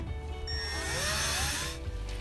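Power tool driving self-tapping screws to mount a Nu-Calgon iWave air purifier unit, a brief close whirring burst that winds up in pitch and then cuts off, with no talking.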